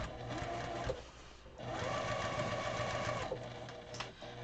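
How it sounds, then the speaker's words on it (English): A sewing machine runs steadily along the seams of an 18-inch fabric pillow, whirring in continuous bursts with a brief pause near the one-and-a-half-second mark, close and fairly loud. "And I'm going down my seams right now."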